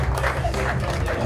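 Dense, continuous clapping and crowd noise fill a surprise retirement party for a dad, loud and steady throughout with voices mixed into the applause.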